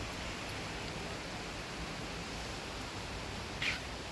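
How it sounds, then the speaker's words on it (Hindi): Heavy rain falling outside a balcony, a steady, even hiss of downpour throughout, with one brief faint sound near the end and no speech. "बारिश तेज़ हो गई ना, तेज़ हो गई, अब लग रहा है बारिश हो रही है"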